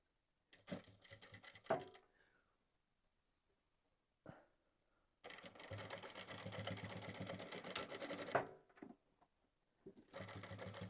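A domestic sewing machine stitches through several layers of a fur pom-pom hat close to the opening, running in two bursts of steady mechanical chatter, a short one and then a longer sustained run, with brief pauses between.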